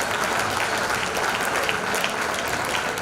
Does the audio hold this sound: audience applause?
yes